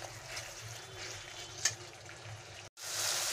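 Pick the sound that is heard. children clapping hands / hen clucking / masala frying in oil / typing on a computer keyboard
masala frying in oil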